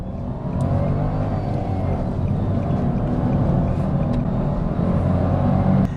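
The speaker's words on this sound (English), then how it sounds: "The engine makes this whiny noise that I'm not really a big fan of." Three-cylinder engine of a Nissan Micra whining steadily while accelerating, heard from inside the car as a continuous, fairly loud drone with road noise and no talking.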